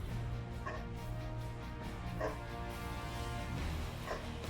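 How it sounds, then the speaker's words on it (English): Dogs barking at someone outside near a golf course, a few scattered barks at moderate distance over a steady background hum with faint voices. "As my dogs start to bark at someone outside on the golf course."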